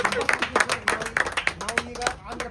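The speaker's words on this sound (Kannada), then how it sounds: "ಚಪ್ಪಾಳೆ." A few people clap along at a roadside bike mechanic's spot in Andhra Pradesh. The claps are brisk and uneven, with voices chattering over them.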